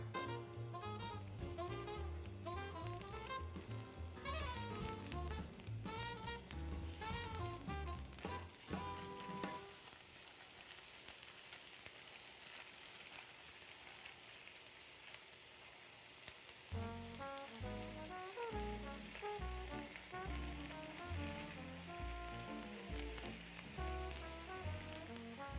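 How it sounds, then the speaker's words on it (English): Ground beef sizzles and crackles steadily as it fries in a pan at home, a continuous close hiss with faint stirring scrapes and no talking. "I don't know if you can hear the sizzle, but always a nice smell"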